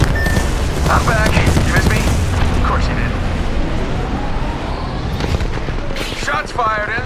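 Sustained gunfire from the battle-royale game Apex Legends, dense overlapping shots and bursts running throughout at high level, mixed with a voice talking over the fight.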